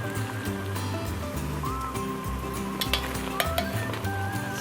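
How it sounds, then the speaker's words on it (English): Cooked pork for a turnip and pork fricassee sizzles and fries in a pot while it is lifted out, a continuous crackling hiss with scraping and clattering, no talk. "So now we're going to remove our pork"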